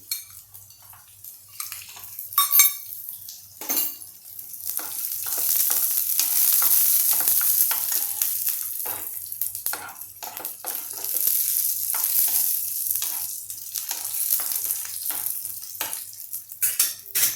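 Garlic hits a hot pan and sizzles steadily while a spoon stirs it, with clinks of utensil on metal, as tomato thecha is being prepared. The frying hiss swells and stays loud throughout, close up, with no talking.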